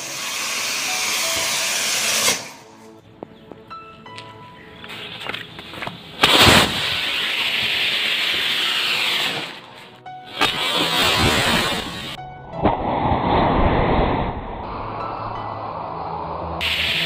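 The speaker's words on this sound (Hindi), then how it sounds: "अब फाइनली गाइज हम लोग इस रॉकेट को जलाने वाले हैं" Homemade rocket ignited to propel a toy car, a loud roaring hiss with crackling bursts that surges, cuts out and flares again several times over the clip, close and dominant.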